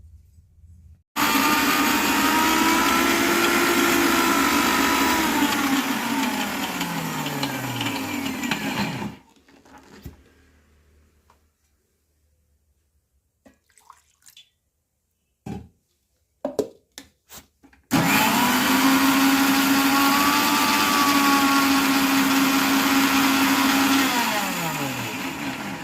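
A mixer grinder grinding coconut with chilli powder and salt runs loud and close in two long bursts, its motor whine steady, separated by a quiet pause with a few clicks and knocks.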